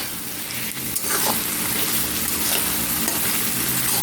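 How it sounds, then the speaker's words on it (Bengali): Onions fry in a wok over a low gas flame, giving a continuous close sizzle and crackle with occasional stirring scrapes and no talking. "এখন পেঁয়াজ ভাজা চলছে কড়াইতে।"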